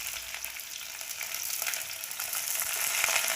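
Chopped shallots, garlic, ginger and curry leaves hit hot oil with popped mustard seeds for a fish curry, giving a steady, bright sizzle that swells slightly and comes with light stirring scrapes.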